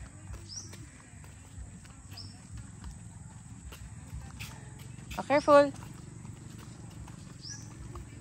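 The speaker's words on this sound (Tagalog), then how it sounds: "Nakasalubong niya yung kabayo." A horse walks past on a farm, its hooves thudding softly and steadily under a continuous low rumble, while nearby adults talk to a small child.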